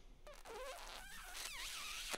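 A voice imitates a clothing zipper with the mouth, drawing air in through loose lips to make a few close, raspy rising zip strokes over about two seconds.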